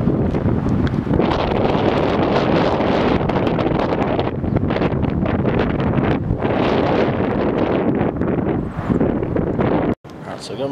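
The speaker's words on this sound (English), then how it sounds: "it's really windy out there" Strong wind outside the abandoned Bradmill buffets the microphone in a loud, continuous roar with gusty surges, briefly dropping out near the end.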